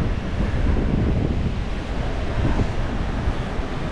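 Steady wind buffets the microphone with a constant low roar, mixed with a rushing, surf-like wash and no voices, on a beach while pompano fishing.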